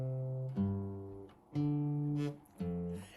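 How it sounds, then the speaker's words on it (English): Guitar bass line thumbed on the low strings, three or four deep, sustained notes with pauses between them, close and fairly quiet with no voices. "Here's how bass lines sound."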